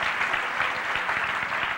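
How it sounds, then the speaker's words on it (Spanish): Church congregation applauding steadily during a Spanish-language sermon, a dense, even wash of clapping heard at moderate distance. "Dale un aplauso al Señor"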